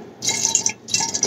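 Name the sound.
water poured from a plastic bottle into a glass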